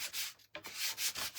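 Sandpaper sanding wood, a short run of close, raspy back-and-forth strokes in a quick rhythm with a brief pause partway through, no talking.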